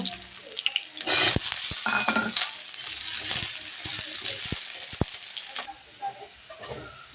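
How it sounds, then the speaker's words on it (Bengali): Cut potatoes frying in hot oil, a bright crackling sizzle with a burst near the start, with clinks and scrapes of a spatula in the pan, close by, no talk. "আলু একটু এবার আমি ভেজে নেব"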